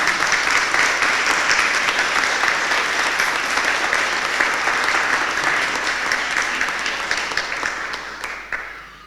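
Graduates at a Griffith College graduation ceremony applaud their families and friends in a large hall, a dense, steady roar of many hands clapping that fades at the very end.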